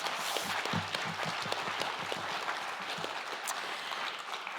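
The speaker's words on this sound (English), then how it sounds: "Owen and Mary and Bridget deserve another round of applause for putting on such a fantastic event" Audience at a conference panel on trauma gives a round of applause, a dense sustained clapping from many hands filling the room, with a few louder claps standing out near the front.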